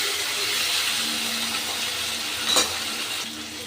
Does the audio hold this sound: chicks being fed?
no